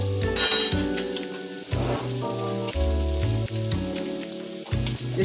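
Bacon and about a cup of chopped onions sizzle together in a skillet for collard greens, a steady frying hiss running beneath louder music throughout.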